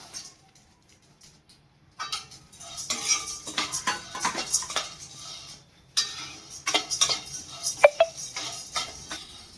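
Cashews, roasted gram and melon seeds are stirred in a hot pan for a snack mix. A spoon scrapes and clinks against the metal in irregular bursts, with a nearly silent stretch at the start.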